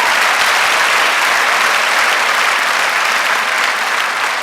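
Loud, dense applause from a lecture audience at a Korean university hall, a continuous roar of many hands clapping that stays strong for the whole stretch.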